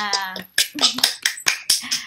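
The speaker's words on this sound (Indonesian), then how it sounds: "Tepuk tangan dulu dong untuk kita semua" A class of students clapping their hands together in a quick rhythmic pattern, close and loud, with short sharp bursts and voices in between.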